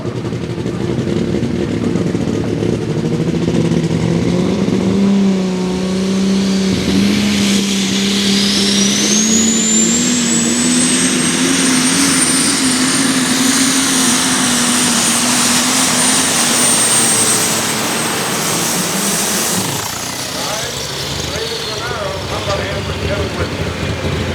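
A super stock New Holland pulling tractor making about 4,000 horsepower roars loud and close at a tractor pull. The engine note climbs and holds under a rising turbine-like whine for about twenty seconds, then cuts off.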